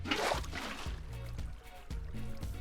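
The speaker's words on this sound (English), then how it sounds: "Our waterfall has already made its own waterfall." Flowing water from a waterfall in the Minecraft video game, a steady broadband rushing wash with soft rhythmic low thumps underneath, continuous and fairly close throughout.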